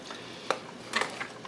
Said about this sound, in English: Now we're stirring and stirring.